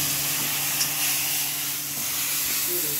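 Green chili, red chili, coriander powder, turmeric and salt frying in a pan give a steady, bright hiss and sizzle that stays even and close throughout.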